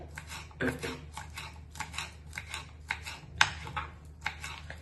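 Fresh taro (alu) leaves being chopped with a knife, a quick run of crisp, rhythmic cuts in short bursts, close and moderately loud, with no one talking.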